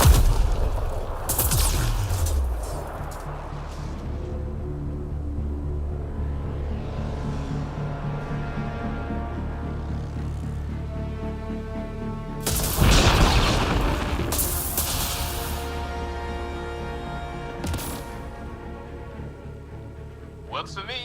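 Bombs detonating in the video game Mass Effect Andromeda, two loud booming blasts with long rumbling tails, under a steady bed of game music and background noise.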